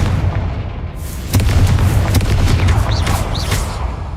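A deep booming fire blast from the Confringo spell in Hogwarts Legacy, a loud sustained rumble with sharp crackling bursts, heard under a spoken incantation.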